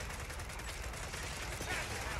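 Gunfire from the video game Gears of War 4 rattles in a dense, continuous stream of rapid shots, loud and close throughout, with voices mixed underneath.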